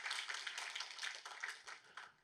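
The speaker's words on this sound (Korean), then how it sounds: "우리 하나님께 박수로 영광 돌리겠습니다." A church congregation at a Friday night service claps, a brief burst of quick, fairly distant rhythmic applause that fades out over about two seconds.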